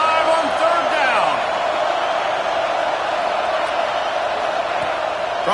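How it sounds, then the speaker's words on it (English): Stadium crowd at a college football video game, with the Ohio State Buckeyes home crowd roaring on third down, a steady loud wash of cheering that fills the whole stretch. "The Buckeye crowd alive on third down."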